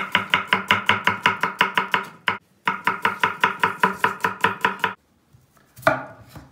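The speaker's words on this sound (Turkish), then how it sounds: "Soğanları çok ince doğramayacağız." Onions being chopped with a knife on a cutting board for a spicy chicken dish, a fast, even run of crisp close knocks in two bursts with a short pause between, then a final clatter.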